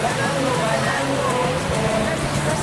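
Big sea waves roll onto a beach in Spain, a steady loud broadband wash of surf with faint voices mixed in underneath.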